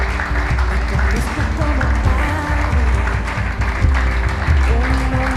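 A church congregation claps along rhythmically with low music underneath, producing a dense, loud run of applause with steady beats and no clear speech.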